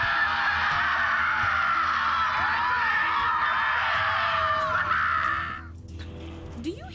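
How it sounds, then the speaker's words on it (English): Harsh, sustained screaming in the video game Borderlands 3 holds loudly for about five seconds as a dense, wailing crowd of voices, then cuts away to quieter game ambience. "Do you hear screaming"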